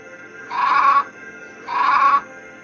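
A sheep bleats twice, two short, wavering, nasal calls of equal length separated by a brief pause, close and clear.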